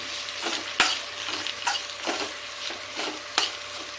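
Sliced onion fries quietly in a pan while being stirred, with a soft steady sizzle broken by several sharp spoon scrapes and taps on the pan, close and fairly faint, with no talking.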